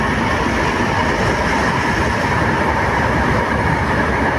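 An LRT Line 1 light-rail train on a test run rumbles past close by in the Philippines, a loud steady roar of wheels and carriages with faint rhythmic clacking, no voices.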